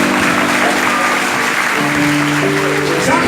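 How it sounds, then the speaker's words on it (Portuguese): A church congregation at a doctrine service in Barra do Jacuípe, Camaçari, Bahia applauding, a dense sustained clapping with sustained tones from instruments underneath and faint voices. "Se você crê, aplauda o Senhor Jesus"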